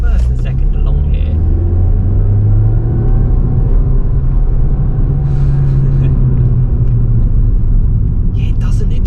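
A Suzuki Swift Sport pulls through first and second gear, its engine a loud rising drone heard from inside the cabin, with someone talking over it for most of the stretch.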